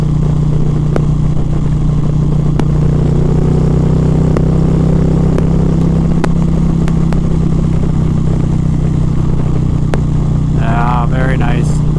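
A 2023 Indian Pursuit Dark Horse bagger motorcycle cruises steadily in 4th gear in sport mode at about 65 mph and 3,500 RPM, its loud, constant engine drone joined by wind rush and occasional clatter, with a rider talking over it.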